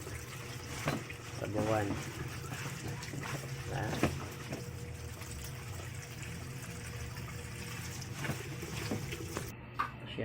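Sweet potato leaves being washed by hand in a basin of water, giving soft splashes and swishing trickles at close range, with a person talking over the sloshing.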